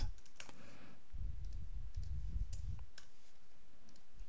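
Keys tapped on a computer keyboard, a sparse run of light clicks at uneven intervals, close but quiet, with a low rumble beneath and no talk.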